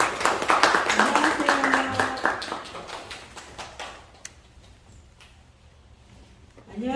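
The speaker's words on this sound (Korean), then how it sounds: "뜨거운 박수로 환영해 주세요" An audience at an agricultural lecture claps in welcome for a speaker, a burst of applause that fades over a few seconds and then gives way to near quiet before a voice begins.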